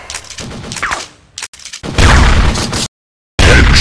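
Rapid gunfire bursts from the video game Critical Strike, loud and sharp, broken by brief silent gaps and a quieter stretch before heavy, dense volleys.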